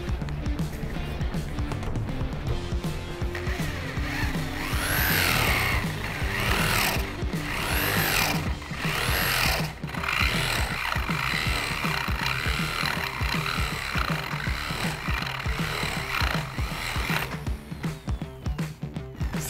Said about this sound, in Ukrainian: Вставляємо пірєве сверло діаметром 25 мм.